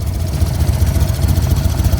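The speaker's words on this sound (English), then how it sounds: "And what we're listening for is the engine to change idle." A motorcycle engine idles with the idle turned down low, a steady close, loud low-pitched rumble with an even pulsing beat, no talk.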